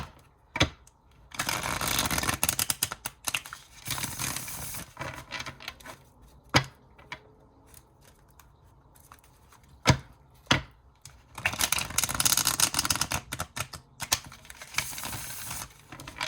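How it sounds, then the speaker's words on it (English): Tarot cards are shuffled in bursts of crisp riffling and soft flicking, with sharp taps and quiet pauses between rounds, close by. "Let me shuffle these tarot cards and see what else Spirit has for you."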